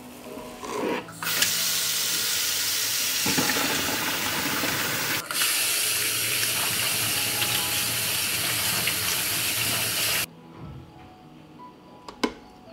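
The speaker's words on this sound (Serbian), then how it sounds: "Pasulj je kuvao 5 minuta i nosim ga sad na ispiranje." Boiled beans rinsed under a running kitchen tap, a steady broadband rush of water pouring for about ten seconds before cutting off, followed by a few faint clinks in a quiet room.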